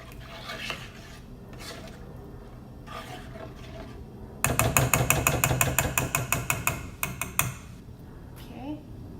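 A spoon stirs pepper paste into chicken stew in an Amway iCook pot. Soft, faint handling gives way to a fast run of loud, rhythmic metallic scraping and clanking, then tapers off.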